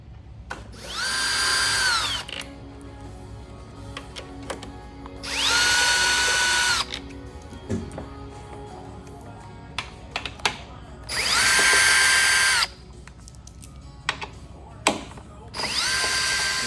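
Power drill backing out bolts on a Harley-Davidson motorcycle during a rear air ride install, four loud whirring bursts of a second or two each, with small tool clicks and handling noises between them.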